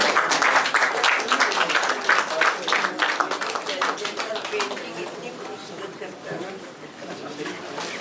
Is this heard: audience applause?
yes